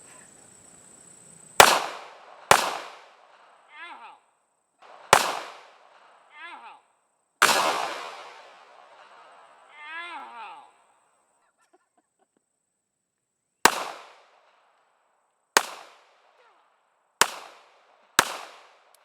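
A Ruger LCP pistol fires about eight sharp, loud cracks outdoors, spaced unevenly with long pauses. Brief faint voices come between some of the shots.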